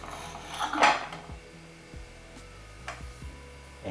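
A knife slices through a vanilla pod on a hard board, one sharp crisp contact followed by a few light knocks and taps, close and fairly quiet with no voices.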